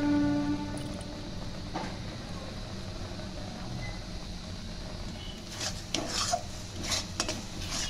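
Milk-powder sweet dough with a little ghee is worked in a pan, a steady rasping scrape of the spoon against the pan that grows louder and choppier near the end, with faint background hum.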